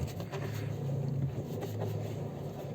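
A steady engine rumble from a 2007 Ford Fusion runs throughout at a constant level, a low continuous drone with some faint rattling texture on top.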